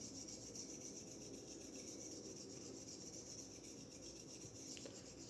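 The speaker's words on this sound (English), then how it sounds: "only need 2 more minutes of honing, and then I'll finish it off on laps" A straight razor honed on a Coticule stone, a faint, steady wet rubbing and scraping that continues evenly without pauses and without speech.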